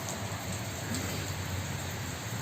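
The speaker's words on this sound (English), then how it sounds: "All right, it is raining." Rain falls steadily outdoors near a dollar store, a constant even hiss with a few faint drips and no voices.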